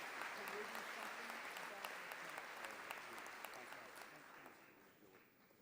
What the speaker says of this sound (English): if you can join me in another round of applause